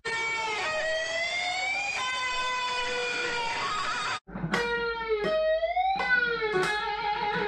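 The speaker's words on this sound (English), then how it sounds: "he's doing a kind of a pre-bend and release, and then when he releases the bend, he taps" Electric guitar playing a lick: a long held bent note that releases downward, then sharp tapped high notes in quick bursts, loud and distorted, no voices.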